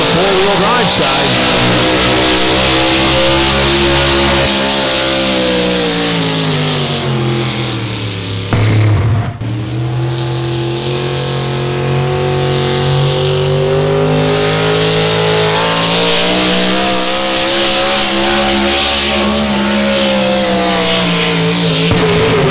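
Dodge four-wheel drive truck at the Farley Nationals truck pull roars with a loud, sustained engine rev that rises, dips briefly and climbs again across the run, with faint announcer talk underneath.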